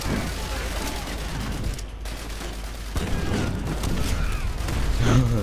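Dense, continuous booming and crackling gunfire-like blasts from the video game Call of Duty: World at War fill the whole stretch, loud and chaotic, with an explosion-like rumble swelling near the end.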